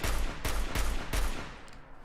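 Rapid gunfire from a quick-firing sniper rifle in the video game Fallout 4, with four or five sharp close shots in quick succession and a ringing tail after the last one, and no talking.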